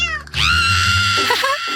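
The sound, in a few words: cat meowing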